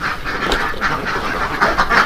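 Laying ducks on a duck farm in Sukabumi, a flock of about 400, quack in a steady overlapping chorus, close and fairly loud, with a few louder calls near the end.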